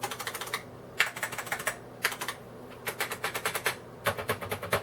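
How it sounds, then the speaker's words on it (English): Rapid, clacky keystrokes on a Unicomp Model M buckling-spring keyboard come in bursts with short pauses, loud and close, with a springy, plasticky click to each press. "You can hear it's more of a plasticky thock on the Unicomp one as opposed to the IBM one."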